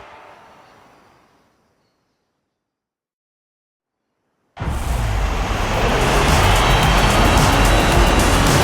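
Car in a racing game revs up abruptly and drives a loud, steady stadium victory lap with a broad engine roar, following a fading tail and a few seconds of silence.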